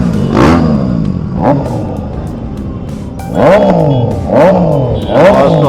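A large group of Royal Enfield motorcycles, including Himalayan models, arrives for a Halloween ride to Faridabad. Loud engines rev in repeated swelling bursts over a steady rumble, several bikes roaring past close by.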